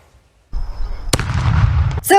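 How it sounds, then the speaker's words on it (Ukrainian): Russian PFM-1 'petal' anti-personnel mine detonating on a roadside in a liberated village in Kharkiv region, a sharp loud blast followed by a rumbling roar and a second burst at the end. "вибухає російська міна пелюстка на узбіччях звільнених сіл"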